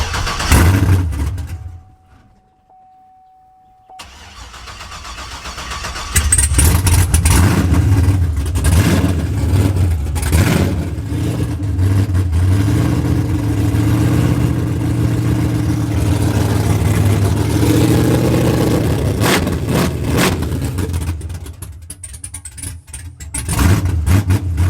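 A Chevrolet Trailblazer SS with an LS2 V8 and a TSP cam makes its first start-up: a short crank catches into a loud, lumpy idle with repeated revs, then settles and quiets near the end.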